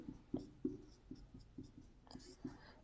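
Pen writing notes on paper during a math lesson, close scratchy strokes in short irregular bursts with soft taps, quiet and intimate, with faint breathy murmuring underneath.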